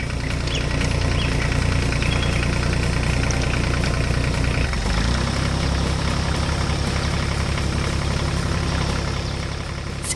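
A harvesting machine engine drones steadily in an animated farm field, a continuous rumbling idle with a dense low knock, loud and close throughout with a brief dip midway.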